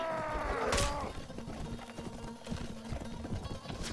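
Horses gallop in the Mount and Blade Warband video game, with steady rapid hoofbeats and clashing battle noise filling the scene and no speech.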